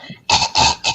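A smoker's cough, three quick harsh hacking bursts in close succession, loud and near with a rough, phlegmy edge.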